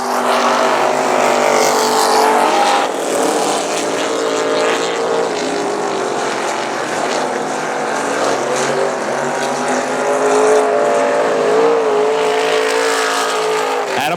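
Race cars lapping the South Texas Speedway, a continuous loud roar of engines rising and falling as the cars pass, with no pause in the noise.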